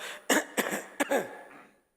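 A person clears their throat with three or four short, rough bursts close to the microphone, each followed by a brief rasp, then silence.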